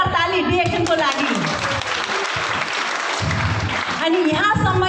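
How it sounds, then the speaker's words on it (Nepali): Audience clapping at a DXN business gathering in Nepal, steady dense applause filling the hall with voices cheering and talking over it throughout. "जोरदार ताली डिएक्सनको लागि।"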